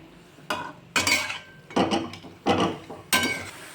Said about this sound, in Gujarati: ઘીમાં સાતળવાથી એનો દૂધીના હલવાનો ટેસ્ટ બહુ જ સરસ આવે છે એટલે આપણે ઘીમાં સાતળીએ છીએ